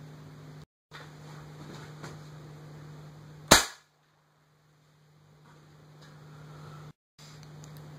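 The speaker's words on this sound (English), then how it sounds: "I'll be shooting both of these BBs out of the Crossman 760 Pumpmaster at 10 pumps" A Crosman 760 Pumpmaster BB gun, pumped ten times, fires a single sharp, loud shot of a copper-plated BB into ballistics gel, followed by a quick decay and a brief silence against a steady background hum.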